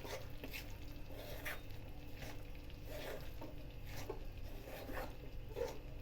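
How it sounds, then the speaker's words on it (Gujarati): Millet flour being stirred slowly in a pan, a soft scraping swish repeating at a steady rhythm, quiet and close with a faint background hum. "બાજરીનો લોટ એડ કર્યા પછી ધીમા ધીમા હલાવતા જવું."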